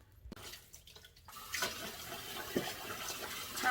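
Cold water rushing from a tap over a whole pineapple being washed at a sink, starting after a short pause and then running steadily with splashes and small knocks.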